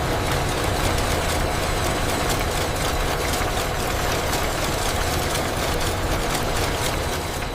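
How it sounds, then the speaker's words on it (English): Cotton bud winding machines run in a factory assembly hall, spindles turning sticks at thousands of RPM while drawing cotton fiber onto the tips; a loud, steady, dense mechanical roar with fine rapid rattling, continuous throughout with no talk. "The winding spindle rotates the stick at thousands of RPM while simultaneously drawing cotton fiber onto the tip"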